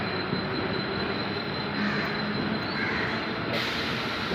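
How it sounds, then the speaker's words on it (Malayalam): Another train arriving at the platform of Panvel railway station, a continuous close rumble of carriages with faint wheel squeal, no voices. "ഇപ്പത്തിന് വേറൊരു ട്രെയിൻ വരുന്നുണ്ട്"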